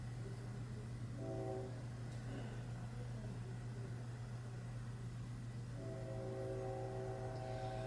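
A train passes in Texas, sounding two long, steady horn blasts from a distance over a constant low rumble and hum.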